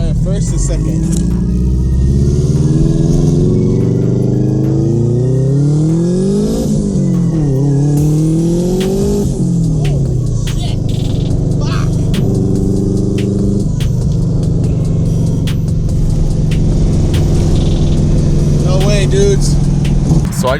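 A Subaru WRX accelerating hard from first into second gear, its engine note climbing loudly, dropping briefly at the shift, then climbing again, with people talking over the roar.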